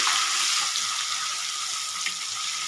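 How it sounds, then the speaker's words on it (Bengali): Paneer frying in hot oil with turmeric gives a steady, dense sizzle that holds at an even level throughout, close and continuous with no voices. "তেলের মধ্যে একটু হলুদ গুঁড়ো দেব, দিয়ে পনিরটা দিয়ে দেব, দিয়ে ভেজে নেব পনিরটা একটু"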